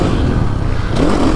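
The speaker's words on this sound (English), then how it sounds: "But it revs quick, light flywheel feel, builds the RPMs much quicker than the FE." A KTM 450 XSXF Factory Edition dirt bike engine revving, a short, loud, close burst of rising engine roar.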